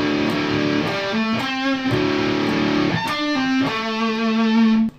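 A distorted electric guitar plays a bar of a riff, chugging crunchy power chords and short note runs, loud and up close with no voices.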